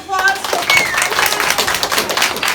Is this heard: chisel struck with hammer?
no